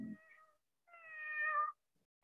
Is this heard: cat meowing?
yes